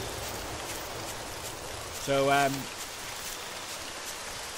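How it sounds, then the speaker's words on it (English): Steady hissing rain falls in S.T.A.L.K.E.R.: Shadow of Chernobyl, a constant soft wash throughout, with a man's brief spoken word cutting in over it midway. "I can hear rain, but I can't see any."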